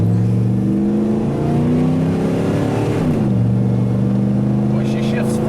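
Ford F250 pickup with a 460 engine accelerating hard from a slow roll, loud steady engine roar climbing in pitch, dropping briefly at a firm gear shift around midway, then rising again, with a voice talking over it.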